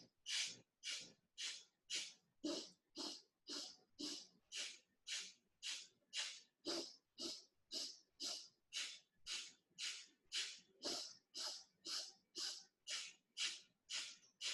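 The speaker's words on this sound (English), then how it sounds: "So we're gonna do the 4 quick inhales, in through the nose again and out through the nose." Quick sniffing breaths in and out through the nose during a breathing exercise form a steady, close rhythm of sharp nasal puffs, roughly two per second, repeating evenly with no talking.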